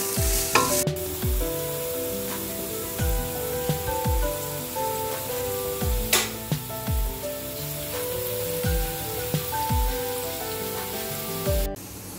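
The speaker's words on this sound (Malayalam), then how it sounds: "ഈ സവോളയും പച്ചമുളകും എല്ലാം നമുക്കൊന്ന് വാടുന്നവരെ നമുക്കൊന്ന് ഇളക്കി കൊടുക്കാം." Onion and green chillies stir-fried in an oil pan, with a continuous loud sizzle and regular spatula scrapes repeating roughly every second, close up and without talk, the okra still to be added.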